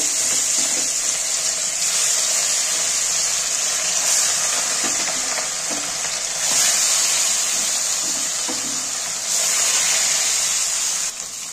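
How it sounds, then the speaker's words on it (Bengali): Katla fish frying in hot oil in a home kitchen: a steady, close, loud sizzling hiss that runs without a break, swelling slightly now and then, with no voices. "দেখো তেলটা গরম হয়ে গেছে, এবার আমি মাছগুলো ভেজে নেব"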